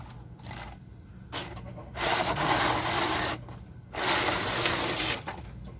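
A sewing machine stitching the sleeves of a red sweater runs in two loud, steady bursts with quieter pauses between them.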